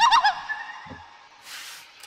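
Bird calls in the video game Lampblack, a burst of bright chirping warbles at the start, then quiet with a soft low thud and a faint airy whoosh.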